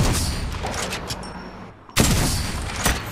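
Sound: gunfire in the video game Apex Legends

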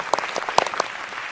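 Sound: audience applause

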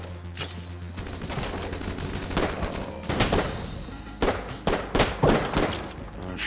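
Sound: gun firing in video game Enter the Gungeon

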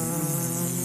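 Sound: fly buzzing

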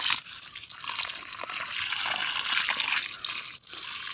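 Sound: pouring water on a Malabar spinach plant

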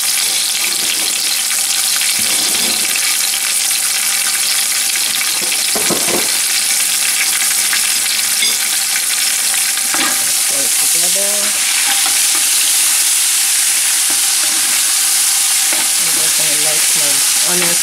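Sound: frying condiments alongside fish in a pan

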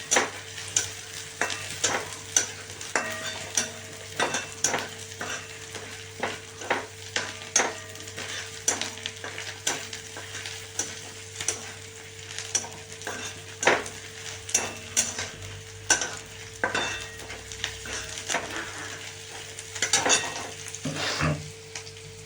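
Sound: seeds frying in oil in a pan

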